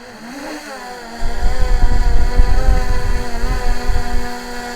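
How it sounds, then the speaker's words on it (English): A Honda XL750 Transalp motorcycle idles with a low hum, then its engine rumbles louder and roughly as it rides along a muddy road, close and continuous. "So the bike handled quite well this muddy road."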